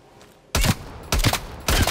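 Three heavy, booming gunshots from a hard-hitting gun in Call of Duty: Black Ops Cold War, each loud and sharp, spaced roughly half a second apart with short ringing tails between.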